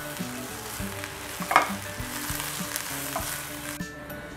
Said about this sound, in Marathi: आपण आता हे परत एकदा परतून घेऊयात।